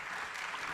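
Audience applause at a live-streamed legal panel event, a brief dense burst of many hands clapping at steady volume.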